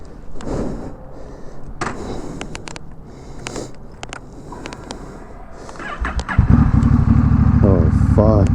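A Honda Rebel 1100 motorcycle with its muffler removed starts up, the engine catching near the end into a loud, deep, steady idle, after a stretch of handling noises and people talking.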